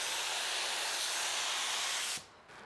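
A beginner spray gun driven by compressed air mists plain water over a dirty car, a steady loud hiss that cuts off abruptly near the end before a brief softer burst.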